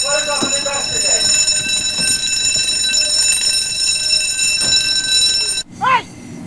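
A ship's maneuver alarm on board a minesweeper sounds as a steady, loud, multi-tone electronic drone across nearly the whole stretch, with brief shouted commands and clatter underneath, then cuts off abruptly near the end as a voice rises.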